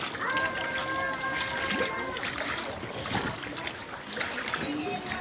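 Floodwater in a residential inner neighborhood of Calayo, Nasugbu splashes and trickles continuously at close range before dawn, with a voice talking over the watery churn throughout.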